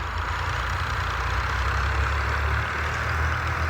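A tractor engine runs at a steady low idle on farmland during cotton sowing, a constant deep rumble with an even drone and no voices.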